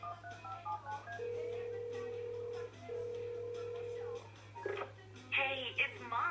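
In the video game Lollipop Chainsaw, a phone rings with two steady electronic tone bursts separated by a brief gap. Game sounds and brief voice fragments come before and after.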